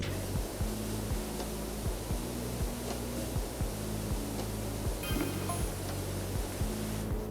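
A pressure washer jet sprays continuously in the Powerwash Simulator video game, a loud steady hiss running the whole time over a repeating low synth music loop, with no talking.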